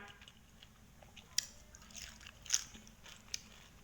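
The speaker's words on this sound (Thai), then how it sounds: "กินน้ำพริกกะปิไปก่อน" Fresh vegetables dipped in Thai shrimp paste chili dip being bitten and chewed, soft close crunches with a few sharper bites spaced out over quiet background.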